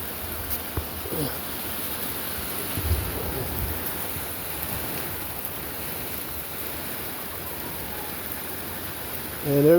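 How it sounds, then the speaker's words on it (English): Heavy rain and wind in a backyard with a chicken run, a steady wash of rain roaring close and constant, with brief thumps and a louder gust at the end. "all the rain and the wind."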